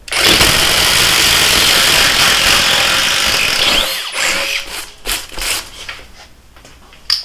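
Impact driver boring into wood with a 1 inch spade bit, a Metabo 36v Triple Hammer against a Flex 24v Quick Eject, a loud steady motor whine with hammering for about four seconds, then winding down into scattered bursts and clunks.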